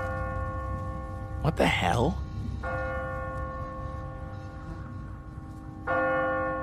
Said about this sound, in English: What kind of church bell goes off at 20 past the hour?